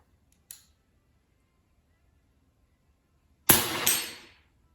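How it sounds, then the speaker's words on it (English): A JTS AirAcuda Max .25 air rifle fires one loud, sharp shot late in the quiet stretch, its crack followed by a quick metallic ring, after a faint click earlier on. "we're just gonna fire a shot and see what we get"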